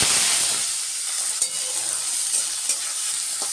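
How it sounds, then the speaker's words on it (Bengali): Black cumin seeds splutter and sizzle in hot oil in a wok, a bright, constant crackling hiss with a few sharp pops, close and loud, while the oil is swirled around. "কড়াইতে কালো জিরে ফোড়ন দিয়ে তেলটা ঘুরিয়েছে চারিদিকে"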